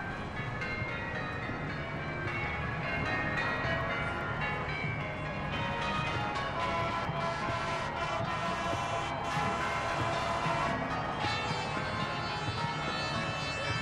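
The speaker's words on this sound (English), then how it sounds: "I was just about to mention the bells. The Belfry heading up this pageant here today." Church-style bells rung from the belfry boat leading a river pageant on the River Thames, a steady clangour blended into dense, continuous crowd and river noise, with no clear pauses.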